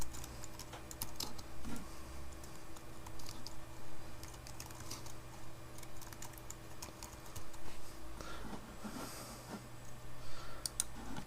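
Close computer-keyboard typing with irregular bursts of key clicks, quiet and continuous over roughly eleven seconds, with no talk over it.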